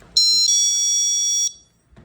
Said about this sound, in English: the middle position gives you a certain type of alarm